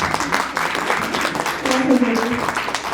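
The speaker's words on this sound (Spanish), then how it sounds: "que lo ha trabajado Yanela, a quien también pido un fuerte aplauso." A conference audience applauds in a hall, a dense, continuous patter of many hands mixed with a few voices talking over it.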